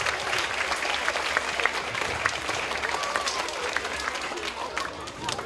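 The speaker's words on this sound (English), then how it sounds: "let's just give all of our past staff and students that I recognize so far a big round of applause" At an elementary school's 50th anniversary celebration, a crowd gives sustained, even applause for past staff and students, with scattered voices and a few cheers mixed into the clapping.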